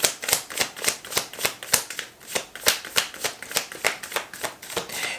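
A deck of tarot cards being shuffled by hand, a steady rhythmic run of crisp riffling flicks close up and fairly quiet, with no talking.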